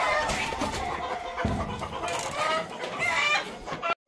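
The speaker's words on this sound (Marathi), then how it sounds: "बघा पक्षी तमाशा करायला लागले" Many chickens cluck and squawk continuously inside a poultry shed for free-range country hens, a dense, busy chorus close and far, with no one speaking.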